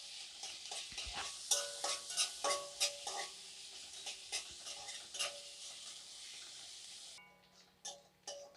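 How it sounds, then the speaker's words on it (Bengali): Chopped onions fry and get stirred in a pan for a duck egg and potato curry, a steady close sizzle broken by repeated scraping strokes of a spoon, with the hiss dropping away near the end. "পেঁয়াজটাকে ভালো করে ভেজে নেব।"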